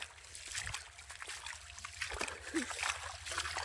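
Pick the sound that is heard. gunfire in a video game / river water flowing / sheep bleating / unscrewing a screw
river water flowing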